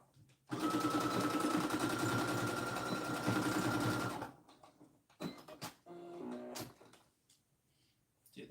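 A sewing machine stitches a fabric tissue holder in a loud, fast run of about four seconds, followed by a few short bursts, clicks and handling knocks.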